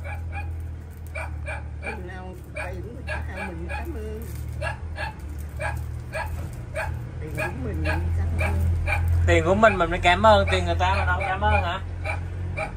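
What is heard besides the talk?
dog barking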